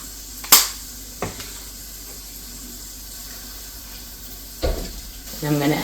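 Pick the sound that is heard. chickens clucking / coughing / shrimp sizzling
shrimp sizzling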